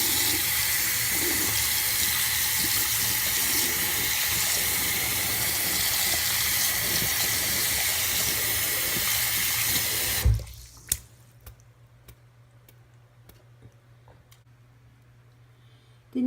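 A running tap rinsing makeup brushes in a sink, a steady close hiss of water for about ten seconds, then the flow stops and a few quiet drips and handling clicks follow.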